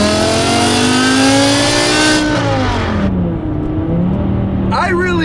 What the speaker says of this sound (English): this exhaust brings out the best in the freaking V10